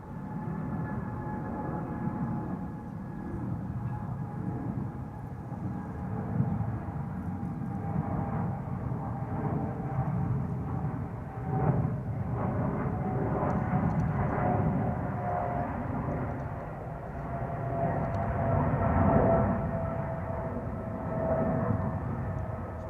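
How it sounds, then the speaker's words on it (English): A Turkish Airlines Boeing 777-300 airliner at Amsterdam Schiphol Airport produces a sustained jet engine roar with a droning whine, heard from a distance and swelling slowly in loudness over the span. "Turkish Airlines flight 1952 going to Istanbul. Another 777-300."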